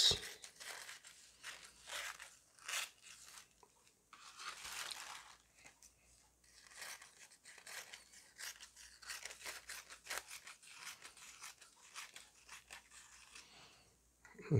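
Black tissue paper is cut into strips with scissors, giving soft, close snips and light crinkling rustles in irregular bursts, fairly quiet and with no talking.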